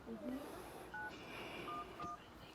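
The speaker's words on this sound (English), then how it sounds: "I'm going to call 911, and you see I'm on a cell phone" A cell phone dials 911 with short separate keypad tones in an irregular sequence, faint and close, set against a hissy room background.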